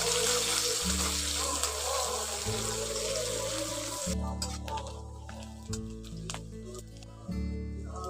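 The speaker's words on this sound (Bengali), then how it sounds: "পেঁয়াজটাকে একটু ভেজে নেব।" Chopped onions hiss and sizzle steadily in hot oil with black cumin seeds, for a spicy tangra and puti fish curry. The frying is loud for the first half, then softer beneath background music.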